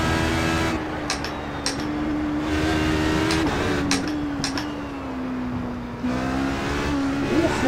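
A simulated HPD ARX Le Mans prototype race car laps Suzuka in iRacing, its engine droning steadily with small gear changes and throttle shifts, close and continuous, with no voices.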